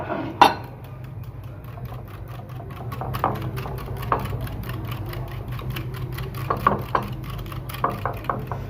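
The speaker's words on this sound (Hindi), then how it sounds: "पहले हम दही को मिक्स करेंगे।" Yogurt gets whisked in a bowl for dahi bhalla, with repeated soft clicks and taps of a utensil against the bowl over a low steady hum.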